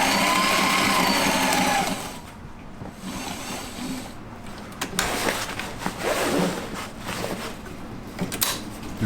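A sewing machine runs at high speed for about two seconds with a whirring, buzzing stitch. Then come quieter clicks, fabric handling and intermittent short mechanical runs close by, with no talk.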